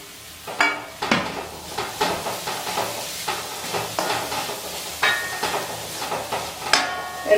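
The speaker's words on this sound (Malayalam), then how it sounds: "എല്ലാം കൂടി ശരിക്കൊന്ന് ഒരു 2 മിനിറ്റോളം വഴറ്റാം" Tapioca and grated coconut being stir-fried in a pan for a spicy Kerala-style dry fry, with a steady sizzle broken by repeated scraping stir strokes of a spoon against the pan, close and moderately loud.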